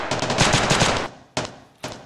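Gunfire in Escape from Tarkov opens with a loud, rapid automatic burst lasting about a second. Two separate sharp shots follow, each trailing off into a short echo.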